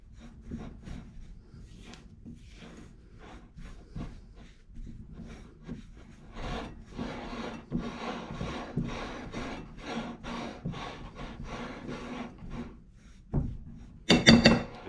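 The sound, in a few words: mixing bread dough with a spatula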